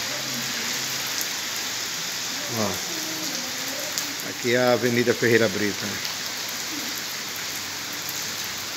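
Heavy rain pours steadily onto a street in Ribeira do Pombal, Brazil, a continuous close hiss and patter, while someone speaks briefly over it midway.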